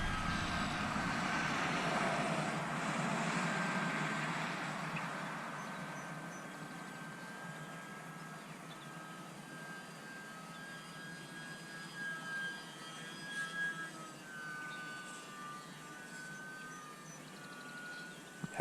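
A UMX Pitts S RC model biplane with SAFE stabilization on its maiden flight buzzes overhead at half throttle, its electric motor whine loud at first then fading and shifting in pitch as it loops away, with no talking.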